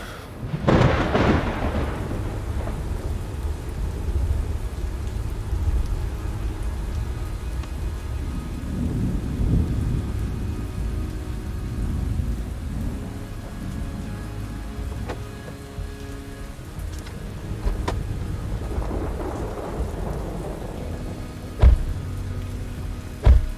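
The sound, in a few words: heavy rain and thunder, tabletop RPG sound effect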